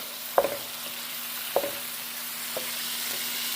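Chorizo frying with potatoes in a pan, a steady background sizzle broken by a few sharp utensil scrapes or taps against the pan at intervals, no voices.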